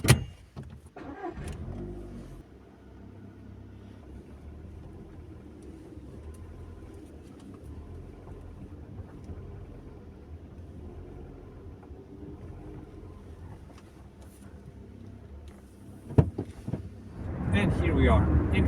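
A manual transmission car on a test drive, with a low steady engine hum from inside the cabin under faint talk, a few clicks and a louder burst of engine noise near the end.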